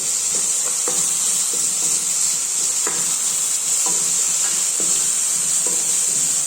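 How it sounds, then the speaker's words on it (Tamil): Onions and tomatoes sauté in a hot pan with a constant hissing sizzle, overlaid by rhythmic scraping strokes of a spatula roughly every half second, close and fairly loud, with no speech. "வெங்காயம் தக்காளி வதங்குறதுக்காக உப்பு சேர்த்துக்கலாம்"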